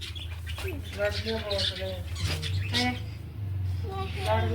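Small birds chirp and twitter close by in quick, repeated bursts, while a person talks over them.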